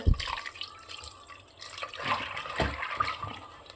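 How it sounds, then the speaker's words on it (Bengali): Rinse water from a mixer jar is poured into a cooking pot of chickpeas, giving uneven splashing and trickling with a few drips and knocks, fairly faint and close. "আমি একটু মিক্সি ধোয়া জল দিয়ে দিচ্ছি"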